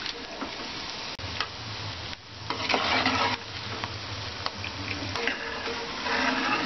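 Semolina gulab jamun frying in hot oil, a steady close sizzle with repeated scraping and clinking as a spoon stirs them around the pan.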